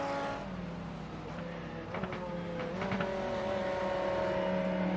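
A Grand Touring race car crossing the finish line at a road course, its steady engine drone humming along with a brief rise as it passes, continuous and fairly close.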